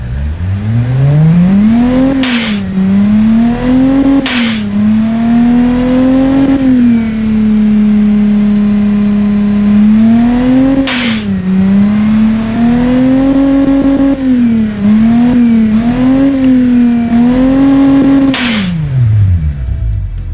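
A straight-piped turbo V6 in a 4x4 SUV from the Automation car-building game revs repeatedly, its pitch climbing and dropping through several loud sweeps with brief sharp bursts between them, close and alone without talk.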